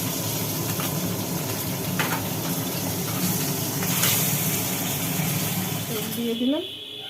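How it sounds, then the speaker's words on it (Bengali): Fish fry in hot oil in a pan, giving a steady, dense sizzle and crackle that runs close and loud throughout, with a voice briefly heard near the end. "মাছগুলো ভাজা হয়ে গেল মাছগুলো একটা একটা করে মাছ তুলে নেওয়া হচ্ছে"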